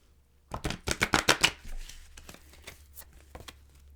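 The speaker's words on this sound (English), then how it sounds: "I'm going to shuffle and deal you an angel oracle card." A quick riffle of angel oracle cards being shuffled, a burst of rapid flicks, followed by softer taps and slides as the cards settle and are dealt.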